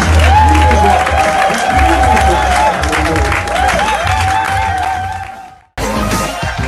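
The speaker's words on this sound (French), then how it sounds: "Accueillons sous vos acclamations pour le Seigneur, le pasteur Mira Santoni." A church congregation cheers and applauds as a pastor is welcomed, producing a loud, continuous crowd roar with whoops over music, which cuts out briefly near the end.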